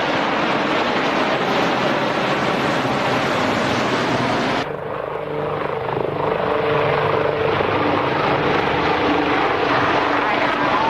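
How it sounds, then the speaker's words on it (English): United States Army Black Hawk and Cobra helicopters fly over the IWM Duxford airshow, their loud rotor thrum continuous and close, with the tone shifting abruptly midway as the aircraft pass. "The United States Army with Black Hawk and Cobra helicopters."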